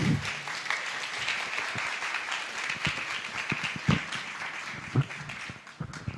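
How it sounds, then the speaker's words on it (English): Audience applause at a workshop, a steady patter of many hands clapping at moderate distance, fading slightly toward the end. "please give her a nice warm round of applause."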